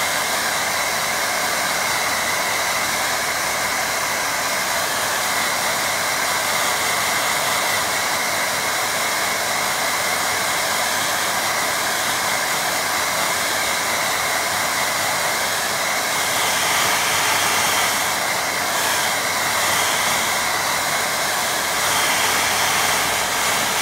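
Hair dryer blowing steadily on a watercolour painting, a loud continuous close whoosh for the whole stretch with slight shifts in pitch near the end.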